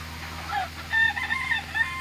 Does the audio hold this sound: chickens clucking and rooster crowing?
yes